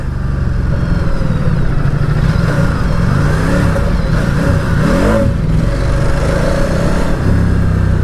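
On a ride, a 2019 Ducati Diavel 1260S motorcycle engine drones loud and close, with the revs sweeping up and down between gears under steady wind rush, and nobody speaks.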